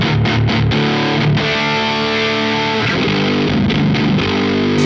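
An electric guitar plays through a captured Schecter Hellwind amp patch on a pedalboard, giving a thick, heavily distorted tone with a few choppy strummed hits followed by sustained chords, loud and close.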